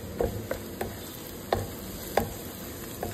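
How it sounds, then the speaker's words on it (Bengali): Whole spices, including bay leaves, cardamom, cloves and cinnamon, fry in hot oil for beef curry: a soft, steady sizzle broken by a handful of sharp ticks and clinks from stirring, close by and with no voices. "5 সেকেন্ড একটু ভেজে নেব, সুন্দর একটা ফ্লেভার আসবে"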